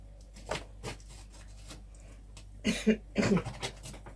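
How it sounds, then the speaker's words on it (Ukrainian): A dog barks in short, separate bursts from a household, a couple of isolated yaps followed by a quicker cluster of barks, moderately faint against a quiet room. "Щось собака гавка."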